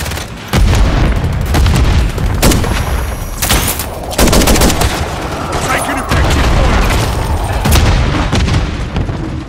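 Call of Duty: Modern Warfare III on the Shipment map, with repeated loud booms and bursts of gunfire in a chaotic exchange, among them a Semtex grenade blast, and brief game voices between shots.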